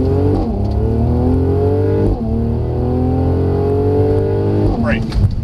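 Mercedes car engine accelerating in S Plus drive mode, rising harmonic whine climbing through gears with brief dips at shifts, steady and close, continuous with cabin hum throughout.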